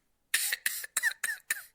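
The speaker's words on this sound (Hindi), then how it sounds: "अरे मुझे तो इतनी ज्यादा खांसी हो रही है" Five quick, dry coughs in a row, close and fairly loud, with brief silences between them.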